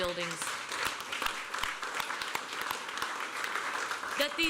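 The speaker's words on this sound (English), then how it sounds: "big round of applause to him" A small crowd at a property owners' association annual meeting claps in scattered, uneven applause, fairly faint, with some voices talking underneath.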